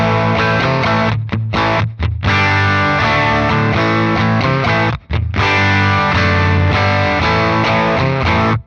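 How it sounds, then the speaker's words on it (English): Loud, overdriven electric guitar through a tube amp turned up to about 8 and breaking up on its own, thick distorted chords ringing out with a couple of brief stops between strums. "turned the amp up to about 8. So it's breaking up by itself now."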